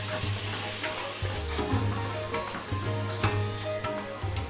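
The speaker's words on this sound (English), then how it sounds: "Then goes in sliced tomatoes. Add some salt and cook till soft." Sliced tomatoes with salt sautéing in a pan, a soft continuous sizzle broken by repeated stirring scrapes of a utensil, close and fairly quiet.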